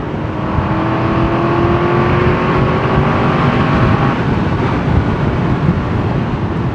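An Aston Martin V8 Vantage Volante, a twenty-year-old V8 convertible, drives steadily at speed, its engine droning loud and continuous with rising tonal whine over constant road and wind roar, no talking.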